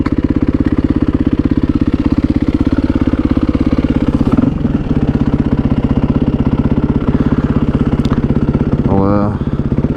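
A Yamaha WR450F dirt bike with a new exhaust baffle idles steadily and loudly close by, a deep, even thrum with a brief blip partway through and a small rise near the end.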